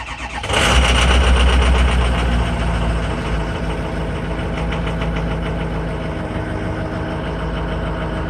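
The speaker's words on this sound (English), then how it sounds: "This is going to be a cold start, so you got to wait for the glow plug light to go out" A 2008 Ford E350 van's diesel engine cold-starts at about 40 degrees after the glow plug wait, cranking briefly and catching with a loud rumble before settling into a steady, clattering idle nearby.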